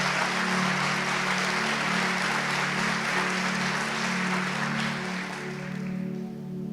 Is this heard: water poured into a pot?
no